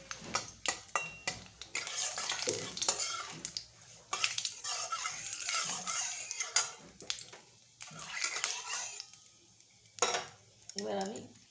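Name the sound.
frying dried chillies and bay leaves in oil, stirring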